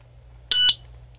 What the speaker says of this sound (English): this is a lock that screams